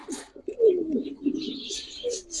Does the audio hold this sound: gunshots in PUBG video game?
no